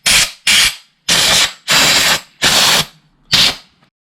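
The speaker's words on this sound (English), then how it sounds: "The next thing I'm going to use is a compressor." Compressed air from a compressor hose blasts dirt off an RC car in six short, loud hissing bursts separated by brief pauses, close to the listener with no voices.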